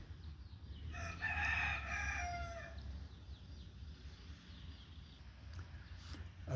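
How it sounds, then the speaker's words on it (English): A rooster crows loudly and close by, with faint chicken clucking around it, in the chicken yard of a ranch near Pretoria over a steady low background rumble. "chicken,"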